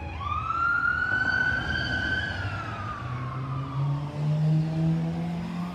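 An emergency vehicle siren wails past outside, a clear rising and falling tone that sweeps down in pitch as it passes, loud and steady against traffic rumble.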